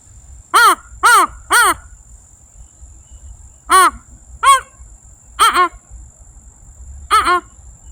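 A person mimics a crow's caw at close range: three quick harsh caws, a pause, then single and paired caws at irregular spacing, loud and clear over a quiet background.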